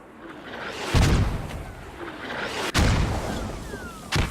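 Mortar rounds in a military video game thud and boom several times, three heavy impacts spaced a second or two apart with rumbling tails, moderately distant, no talk.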